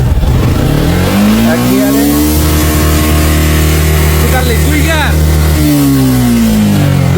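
A Suzuki motorcycle fitted with a racing CDI revs hard and loud close by, its engine pitch sweeping up and holding as it accelerates, with people talking over it.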